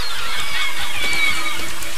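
Birds in the Besiege video game give loud, continuous goose-like honking calls that overlap densely and steadily without a break.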